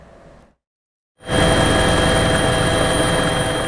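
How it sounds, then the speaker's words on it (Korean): A helicopter flies over flood-damaged ground in North Chungcheong after record rainfall of about 300 mm. Its loud, continuous rotor and engine roar starts abruptly after a brief silence and stays close and steady. "헬기를 타고 둘러봤습니다"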